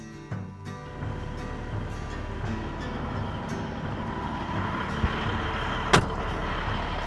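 Steady low drone of a Peterbilt truck cruising down a Texas highway, continuous engine and road rumble with a couple of brief sharp knocks near the end, no talking.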